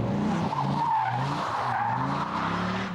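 A Dodge Viper slides under hard acceleration on a circuit, with a continuous loud tyre skid and squeal riding over a deep, steady engine roar.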